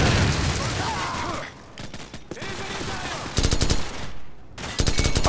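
Covering gunfire in Call of Duty 4: Modern Warfare, with loud rattling automatic bursts and scattered shots over a rumbling battlefield, one fast burst rising sharply near the end.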